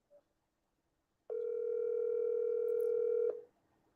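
Outgoing telephone call ringing out unanswered, a single steady electronic ring tone holding for about two seconds after a brief click, then cutting off into near silence.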